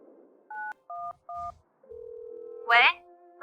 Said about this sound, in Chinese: 打个电话问问情况吧。